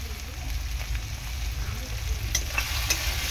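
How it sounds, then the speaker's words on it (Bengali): Spice masala fries steadily in a pan for a soybean curry, with continuous close sizzling and occasional scraping stirs. The sound is a dense, even crackle throughout. "মশলাটা ভালো করে কষিয়ে নেব"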